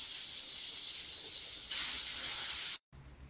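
Basmati rice sautéing in ghee in a pan gives a steady, bright hiss and sizzle that swells louder partway through, then cuts out briefly before a softer sizzle resumes.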